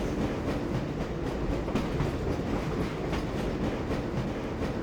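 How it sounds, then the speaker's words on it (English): Steady rumble and rhythmic clatter of a tram train riding on rails in the video game Half-Life at the Black Mesa facility, continuous and fairly loud with no talk. "This train is inbound from Level 3 dormitories to Sector C test labs and control facilities."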